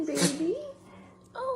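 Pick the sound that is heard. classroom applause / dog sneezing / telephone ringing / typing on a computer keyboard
dog sneezing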